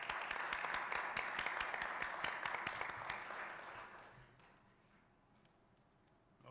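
Scattered applause rises from the public at a city commission meeting, a fairly faint spread of individual claps that thins out and fades away by the end.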